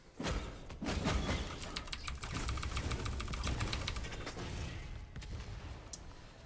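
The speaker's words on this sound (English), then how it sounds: "Hitting them with my flat cannon." A flak cannon in the video game Wolcen: Lords of Mayhem fires a long, rapid stream of crackling shots, near and steady for several seconds with busy game noise behind and no voice.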